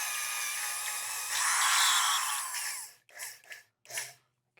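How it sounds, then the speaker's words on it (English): A power grinder works on a custom Nerf Vortex bowling ball, a steady close whine that swells louder midway, then stops and gives way to a few short bursts. "We're going to do a little grind."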